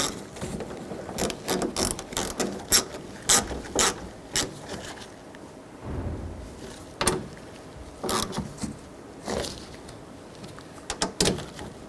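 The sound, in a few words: tightening side mirror mounting nuts with a ratchet, Honda CR-V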